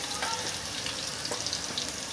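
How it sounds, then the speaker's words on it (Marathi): Cumin seeds, finely chopped green chilli and curry leaves sizzle and crackle steadily in hot oil over a low flame, a dense close frying hiss with small pops and no talking. "त्यात आता मी 1 चमचा जिरा पण टाकते, 1 हिरवी मिरची टाकते, जसे बारीक तुकडे करून घेतले त्याचे, आणि 4-5 कढीपत्त्याची पानं."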